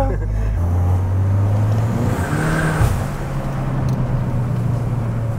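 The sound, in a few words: Peugeot 208 GTI engine with exhaust pops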